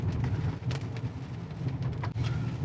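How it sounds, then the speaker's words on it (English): Dense heavy rain pours steadily over a low engine-like rumble during a flood in Pitt Town, Sydney, with scattered sharper splatters and drips close by and no one speaking. "Geez, the rain just keeps coming."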